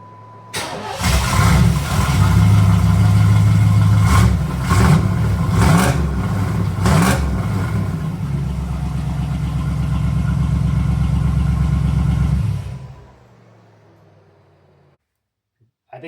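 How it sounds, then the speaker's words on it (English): A third-generation 1982–1992 Camaro fitted with an Edelbrock exhaust cranks and fires up, then rumbles with a few sharp revs before settling into a steady, loud idle for several seconds and shutting off, close by with no talk over it. "I think it sounds a lot better."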